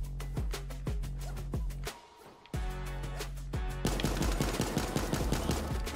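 A S.A.W. machine gun in the game Super Animal Royale fires in rapid bursts, with a short pause before the sustained fire resumes. The shots are loud and close, and the fire grows denser and more continuous toward the end.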